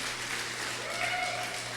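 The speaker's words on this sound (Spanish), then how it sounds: "Dale un aplauso fuerte a Dios." A church congregation claps during a sermon, a steady wash of applause filling the room with a faint sustained tone in the background.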